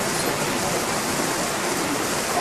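Rain falls steadily outdoors at a village in Sumba, a continuous, even hiss of moderate loudness with no breaks and no voices.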